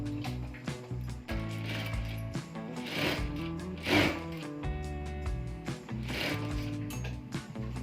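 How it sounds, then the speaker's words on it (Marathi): A sewing machine stitches a fabric strip onto the underside of a sleeve for a one-piece umbrella dress, running in short mechanical bursts and stops, with clicks and whirring over background music. "ही पट्टी आपण स्लीवच्या खालच्या बाजूने शिलाई मारून घेतली आहे"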